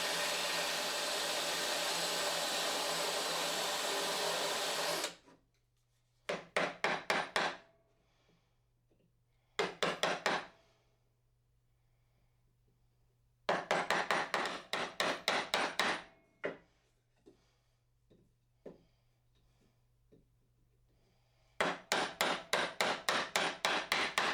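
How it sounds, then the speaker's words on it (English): A power drill bores a mortise in wood for several seconds, then bursts of sharp rhythmic tapping of a mallet on a chisel alternate with further drilling runs and quiet gaps. "with a drill bit remove most of the material and finalize with chisel until you have a tight fit"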